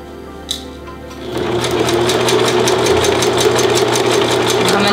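A sewing machine stitches slippery wedding dress fabric, its steady mechanical whir starting after about a second and holding loud and even to the end, with a faint pin-like click near the start.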